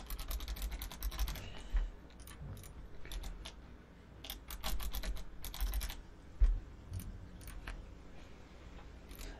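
A computer keyboard clicking in quick irregular clusters of taps while a password is entered, close and fairly quiet, with short pauses between the bursts.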